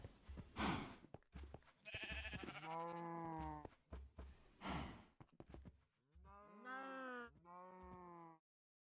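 Cows in Minecraft, penned for automatic breeding in the Industrial Foregoing mod, moo in several drawn-out calls, two distinct lows separated by shorter bleating sounds and clicks, close and clear.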